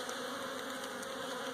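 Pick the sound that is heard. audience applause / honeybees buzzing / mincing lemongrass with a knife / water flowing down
honeybees buzzing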